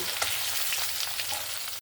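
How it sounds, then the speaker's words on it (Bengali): Fish heads frying in hot oil for a cabbage curry, giving a dense hissing sizzle with faint crackles, close and steady, cutting off abruptly at the end. "মাছের মাথাগুলো এখানে সুন্দরভাবে ভাজা হয়ে গেছে"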